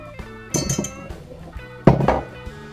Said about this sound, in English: You can mix it up with a whisk.